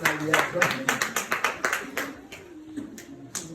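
A revival service congregation clapping in a steady rhythm, sharp repeated hand claps close by, with voices mixed in underneath.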